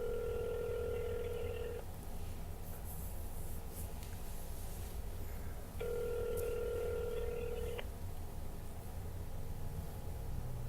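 Telephone ringback tone heard down the line during a call: two long ring bursts several seconds apart, over a steady hissing, slightly muffled line.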